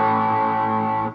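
Guitar through a 2016 Fender Tweed Hot Rod Deluxe III tube amp with the usual faults, a single sustained overdriven chord ringing out loud and close for about a second before cutting off.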